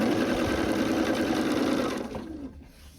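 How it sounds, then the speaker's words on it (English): A sewing machine stitching quilt fabric runs in a steady, fast hum of needle strokes, then slows and stops near the end, with no talk over it. "I'm going to place the green on top. Sew."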